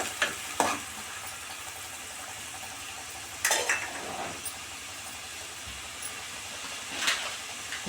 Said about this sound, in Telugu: ఆనియన్స్ ఇలా ఫ్రై అవుతున్నాయి కదా